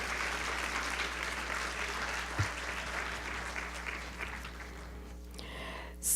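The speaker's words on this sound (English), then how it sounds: "Let's give another round of applause for our panel." A room full of people applauds a city government panel discussion, a dense steady wash of clapping that runs evenly throughout before tapering off near the end.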